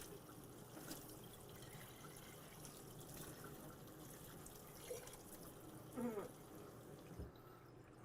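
Softened water running from a faucet through a water softener system, a soft, steady trickle with a few faint drips, low and continuous throughout.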